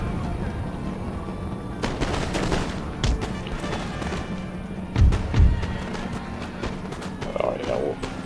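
Musket volleys crackle in Total War Empire, with scattered gunfire bursts and a couple of heavier booms over a constant battlefield rumble, some of it distant.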